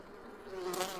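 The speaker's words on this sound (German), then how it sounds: "Die Bienen. Schöne." Bees buzz in a video game, a thin insect drone that swells and grows louder toward the end of a brief moment, with no talk over it.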